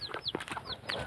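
Farmyard chickens cluck in a few short, quick calls close by, with turkeys and ducks kept nearby on the same rural plot.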